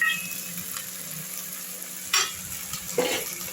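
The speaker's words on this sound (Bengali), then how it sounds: "ছোলাগুলো দিয়ে দিলাম, কেন ছোলাগুলো একটু ভাজা হবে।" Soaked chickpeas sizzle gently in a pan with pumpkin pieces while a spoon stirs, giving a steady low crackle with two brief louder scrapes near the end, no talk.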